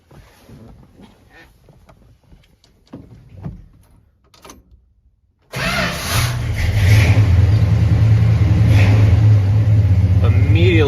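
A 1972 Dodge truck engine with a new starter and carbon brush solenoid kit cranks briefly and catches at once, settling into a loud, steady idle rumble that fills the rest of the clip after quieter preceding sounds.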